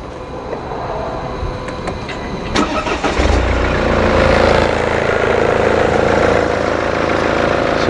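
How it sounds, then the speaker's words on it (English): A Mercedes E220D diesel car engine cranks and catches, then settles into a loud, steady idle with a low rumble, heard close up without talk. "Alright, we just start the vehicle now."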